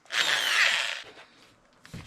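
A power drill spins a 1975 Briggs and Stratton 8hp engine, whirring loudly for about a second, then cutting off, leaving faint mechanical rattling and a short clunk at the end.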